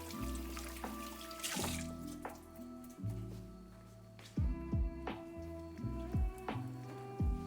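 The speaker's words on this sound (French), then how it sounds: "On va se laver les mains. Au moins les rincer." Tap water runs into a sink while hands are rinsed beneath it, splashing and changing in bursts, close and fairly quiet.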